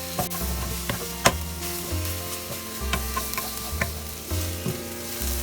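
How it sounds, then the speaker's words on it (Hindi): A spatula scrapes and presses cabbage paratha stuffing with garam masala in a frying pan, giving repeated soft thuds and scrapes over a low steady sizzle, at close range and without talk. "स्पैचुला का बैक साइड से जितना हो सके इसी तरह मैश करते जाइए।"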